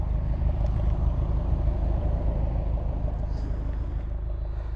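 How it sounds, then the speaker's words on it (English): An Alfa Romeo Giulietta 1750 TBi Quadrifoglio Verde's twin exhaust idles steadily with a low, even rumble, close by and unchanging for several seconds, no talking. "Let's just go around the back so you can hear the exhaust."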